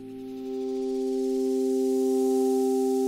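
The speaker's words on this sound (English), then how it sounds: "Let's open the shape full for this because it's only a sine wave." A pure, steady sine tone from the Mela 2 virtual analog synthesizer sustains evenly, rising slightly in loudness at the start, with faint higher harmonics layered above.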